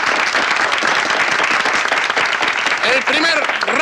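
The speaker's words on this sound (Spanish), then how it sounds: "Un aplauso para el señor." An audience applauds a contestant on a stage contest show with steady, dense clapping throughout, and a voice rises over the clapping near the end.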